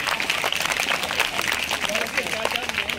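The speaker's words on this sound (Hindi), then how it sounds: "वीर सिंह ताऊ जी के लिए जोरदार तालियां सब बच्चे बजाएं" Schoolchildren clap together for a district president at a school function, a dense continuous patter of many small hands lasting a few seconds, with crowd voices mixed in.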